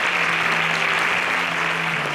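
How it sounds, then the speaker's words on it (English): A studio audience at the Interswitch SPAK Kenya 4.0 competition applauds contestants leaving the stage: dense, steady, loud clapping that fills the whole stretch without a break. "Give them a round of applause as they exit this stage."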